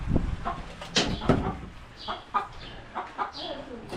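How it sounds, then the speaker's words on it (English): Chickens in a coop give scattered clucks close by, mixed with rustling and knocks during coop cleaning. "Chickens."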